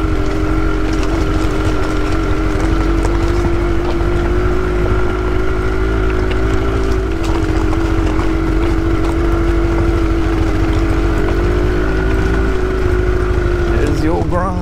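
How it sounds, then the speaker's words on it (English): A Honda Grom minibike drones steadily down the road, its small engine holding a constant buzzing note near the microphone before shifting pitch at the very end. "There's the old Grom going down the road."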